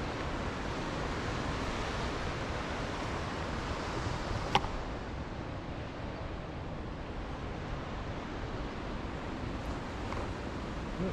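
Choppy ocean waves wash against the rocky Cape Arago coast, a steady distant broadband surf roar mixed with wind across the microphone, fairly faint and continuous.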